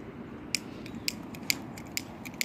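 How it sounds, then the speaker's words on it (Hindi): A lighter being flicked without catching, heard as a series of sharp, close, dry clicks spaced roughly half a second apart over a soft background hiss. "अभी हमारा लाइटर ही नहीं जल रहा।"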